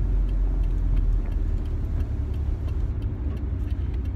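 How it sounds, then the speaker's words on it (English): A 1989 Nissan 180SX RS13 with an automatic gearbox driving on a road, its engine and road noise forming a loud, steady low rumble heard from inside the cabin, with no talk. "I'm really enjoying driving this car."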